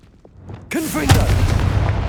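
A Confringo blast spell cast in the Hogwarts Legacy video game: a quiet lead-in, then a sudden loud booming burst with a whooshing, crackling tail that rumbles on for over a second.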